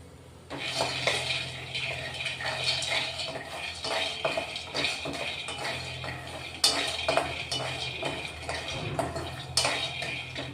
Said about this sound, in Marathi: शेंगदाणे चांगले भाजून घेऊ आपण आता।